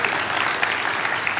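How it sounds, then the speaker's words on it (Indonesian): A church congregation breaks into steady applause, a dense wash of clapping hands that holds evenly across the short stretch with no voices standing out. "mesti tepuk tangan untuk Tuhan Yesus"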